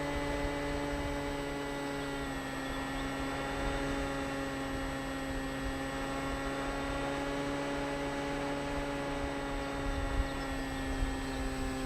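A model RC plane's electric motor runs at half throttle as a steady, even whine with a constant tonal hum, at moderate level with no talking.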